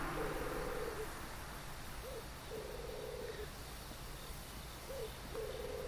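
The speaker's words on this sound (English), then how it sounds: "Like, owls and birds in the background?" Owls hoot repeatedly in the ambient soundscape of a Dark Souls area, each call a drawn-out, faint hoot spaced a few seconds apart over a soft background hiss with crickets, and no talking.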